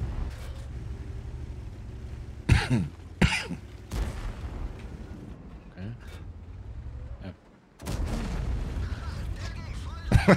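Tank cannon fire in World of Tanks: several sharp, loud booming shots with rumbling tails over a low engine hum, a brief near-silent gap, then more blasts, with someone talking in places.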